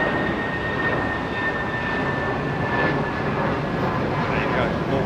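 Emirates Boeing 777 airliner at Heathrow, a steady broadband jet roar with a thin high whine, continuous and moderately loud, with faint voices beneath.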